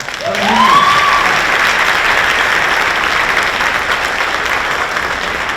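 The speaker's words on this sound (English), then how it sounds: "So one more round of applause for Ben." An audience applauds an orchestra soloist at a symphony concert, a broad steady wash of clapping that swells quickly and holds loud for several seconds, with a brief voice near the start.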